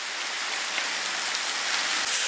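Light drizzle falls on a misty hilltop in Kodaikanal, a soft, steady hiss of fine rain that runs evenly throughout with no voices.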